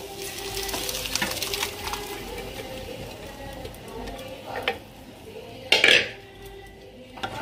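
Boiled peas go into a pan of potato and chicken keema ghugni in a Bengali kitchen, followed by a spoon scraping and clinking against the metal pan, with a sharp clatter near the end over a faint sizzle.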